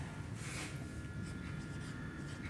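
Pen scratching steadily across paper while notes on the Indian national movement are written out, a continuous soft rasp with no talk over it.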